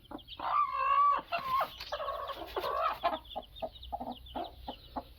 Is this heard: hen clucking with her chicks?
yes